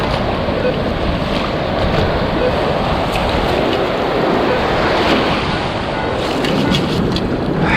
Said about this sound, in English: Get away from the waves.